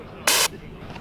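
A bear spray canister fires one short, forceful hiss lasting about a fifth of a second, loud and close, with quiet outdoor background around it.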